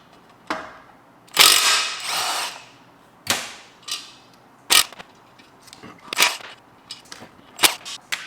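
Ratchet working bolts loose on a vintage Porsche BBS E50 motorsport wheel, heard as repeated bursts of close, crisp pawl clicking separated by short pauses, with no talk.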